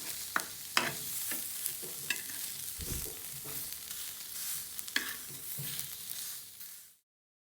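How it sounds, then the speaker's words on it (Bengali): Sidol fermented fish dry-roasting on a tawa without oil, with a soft crackle and intermittent spatula scrapes and taps at close range before the sound cuts off; no one speaks. "এখন এই তাওয়াতেই আমি শীতলগুলো দিয়ে দেব। শীতলেও আমি কোনো তেল ব্যবহার করব না।"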